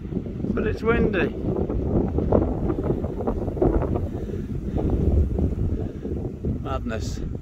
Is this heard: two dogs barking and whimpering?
no